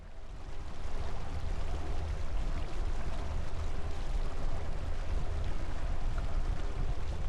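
A sailboat motors toward the marina, its engine a steady low rumble under continuous rushing water and wind noise, close and constant throughout with no voices.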